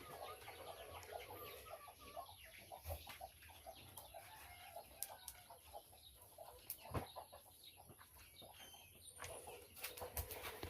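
Chickens cluck softly and sporadically at a distance, with occasional brief wing flaps and scuffling in a quiet outdoor setting.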